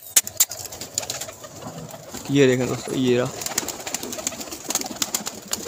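A pigeon's soft throaty coo, two short bursts, heard over outdoor background noise and scattered clicks, with someone speaking briefly.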